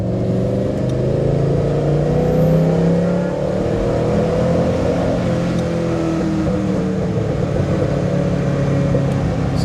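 Maserati V8 engine fitted in a Citroën car, revving loudly and steadily with a rich, rising and falling engine roar throughout, close and without talk.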